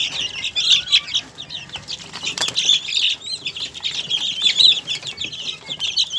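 Young chicks and chickens in a small backyard coop chirp continuously in high, busy peeps, with soft clucks and occasional wing flutters close by.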